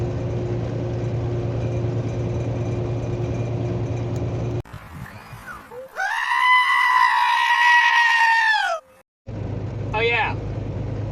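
A sheep screams loudly in one long, strained bleat in the middle of the clip, with a shorter bleat near the end, set against a steady low background hum.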